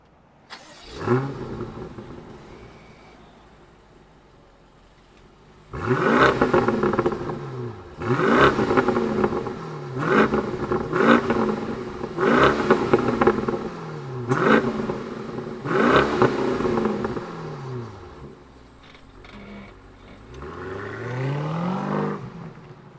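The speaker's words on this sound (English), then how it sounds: "Let's fire up this B8 and hear what it sounds like." A 2022 BMW Alpina B8 starts with a sharp bark and settles to idle, then gives a series of hard throttle blips, each one rising quickly and falling away. A final rev trails off, and no one speaks.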